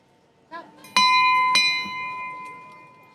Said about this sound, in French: c'est de fabriquer des cloches avec des motifs différents, des sons différents